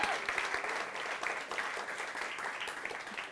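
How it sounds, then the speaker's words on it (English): Sustained applause from an audience at a live event in Australia, steady dense clapping with no break, filling the whole stretch at moderate level. "another round of applause for Amita Hepri"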